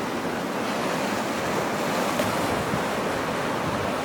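Rough ocean surf in a bay on Hawaii's Big Island near the Place of Refuge, a continuous broad wash of breaking waves with some wind noise and no voices.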